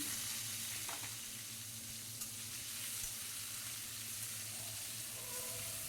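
Chopped onions with cumin fry in oil as a faint, even sizzle under a low steady hum, with an occasional light stir and no talking.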